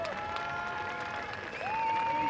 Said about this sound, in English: Big applause for Camille on the bank, man.